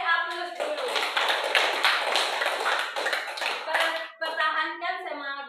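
Students in a classroom break into dense, lively applause, a steady patter of many hands that briefly drops out near the end, with voices heard at the start and close.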